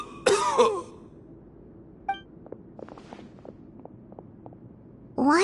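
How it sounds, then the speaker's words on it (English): A man coughs and clears his throat in a couple of harsh bursts at the start, followed by quiet shuffling, small clinks and footsteps, then another loud rough burst at the end. "Why is he coughing so much?"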